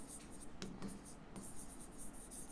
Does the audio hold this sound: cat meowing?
no